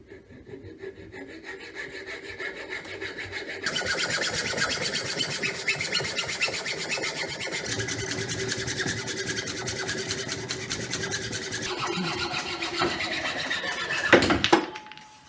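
Handsaw cutting through wood to shape a wooden warhammer, a steady rasping back-and-forth stroke that gets louder after a quiet start, continuing close up for over ten seconds before stopping.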